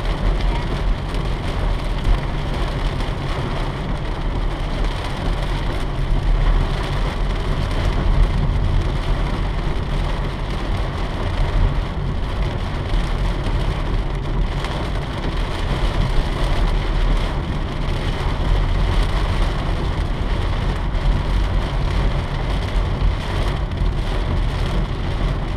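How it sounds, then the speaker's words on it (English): Heavy rain pounding steadily on a car while driving, a loud, dense, continuous wash of drops on the roof and windshield with road noise beneath. "it's raining so hard"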